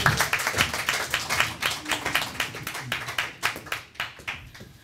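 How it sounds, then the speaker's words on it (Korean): An audience at a live talk event claps in a brisk, fairly loud burst of many hands with a steady rhythmic pulse, close and continuous for several seconds with no voices over it. "박수 한번."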